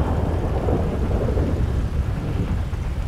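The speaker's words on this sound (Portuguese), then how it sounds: "olha esse temporal" A thunderstorm with heavy rain in GTA 5 roleplay fills the scene with a dense, loud wash of rain and low rumbling thunder, steady and continuous, with no speech.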